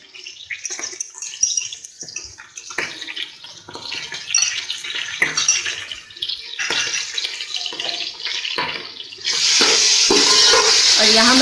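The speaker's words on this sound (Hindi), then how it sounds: "और यहाँ मसाला भून लेंगे अच्छे से हम।" Ginger-garlic paste and masala are stirred in a pan for chana pulao, making a series of scraping, clattering stir strokes with soft sizzling between them, then a steady loud hiss of frying builds near the end.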